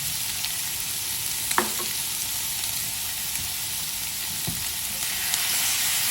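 Pork soft bones stir-fried in a wok with southern Thai curry paste, chili and garlic, giving a steady close sizzle and hiss with occasional scraping knocks of the spatula, no voices.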